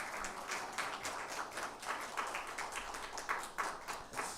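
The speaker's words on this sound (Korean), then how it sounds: "우리 성가대원들에게 다시 한번 감사의 박수하겠습니다" A church congregation applauds its choir after Sunday worship, a steady, moderately loud wash of clapping with no voices heard.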